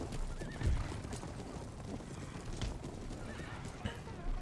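Dragoons' horses in the video game Empire: Total War wait on the battlefield. They give faint hoof clops and scattered snorts and whinnies at a low, distant level.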